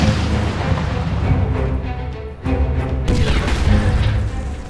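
A Sturmtiger with a 380mm rocket mortar firing in a war video game, a heavy booming blast with a deep rumbling roar that swells, dips briefly, then surges again, loud and close throughout.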